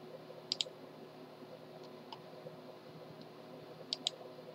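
Computer mouse clicks on a download button, a few faint, sharp clicks in pairs against a quiet room hum.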